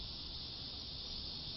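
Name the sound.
cicadas chirping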